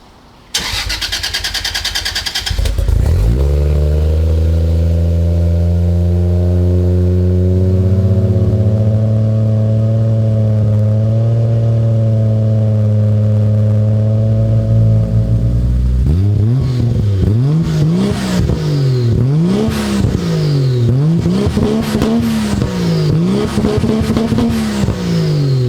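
A Toyota Soarer fitted with a new exhaust tip cranks briefly, fires up and settles into a steady loud idle, then revs repeatedly in rising and falling sweeps, close and with no talking.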